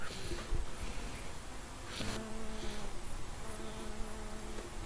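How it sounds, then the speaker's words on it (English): Insects buzz continuously around an abandoned football stadium, a mix of flies and mosquitoes droning close to the microphone, with a few louder passes standing out over the steady hum. "mosquitoes and flies flying around everywhere"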